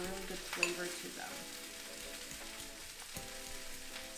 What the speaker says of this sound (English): So we're going to cook the vegetables for about 10 to 15 minutes.